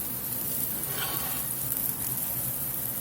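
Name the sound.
blackened catfish frying in a pan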